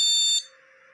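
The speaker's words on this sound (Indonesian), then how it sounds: "ternyata tanpa terpasang RAM dia akan berbunyi bip panjang dan berkali-kali" A motherboard speaker buzzer with no RAM installed sounds a loud, piercing, shrill electronic beep that cuts off sharply, leaving a fainter lingering tone.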